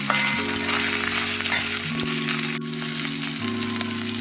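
Fresh green peas, soaked in warm water, sautéing in a hot pan for a fish-head muri ghonto, a continuous sizzle with faint stirring, steady and close throughout, no voices.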